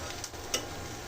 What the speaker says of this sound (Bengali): ওখানে আমার মা পেঁয়াজ ভাজছে